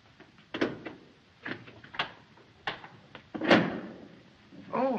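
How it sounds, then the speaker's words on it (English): A door opens amid a run of knocks and clunks, several separate thuds and a latch rattle spaced over a few seconds, fairly close but soft. "Max, open the door."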